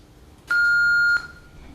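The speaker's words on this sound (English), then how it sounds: "it is the same beep as the machine at the start of the Rockford Files" An answering machine gives a single loud, clean electronic beep lasting about two-thirds of a second over faint room noise.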